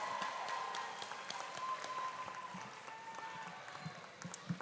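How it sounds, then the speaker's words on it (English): A graduation commencement audience applauds softly from a distance, a faint, even wash of clapping that continues steadily without any voices. "giving them a round of applause as well"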